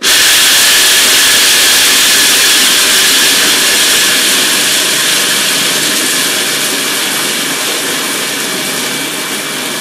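Almonds whirring in a grinder make a loud, close, continuous high-pitched roar that tapers slightly in level toward the end as the grinding nears completion.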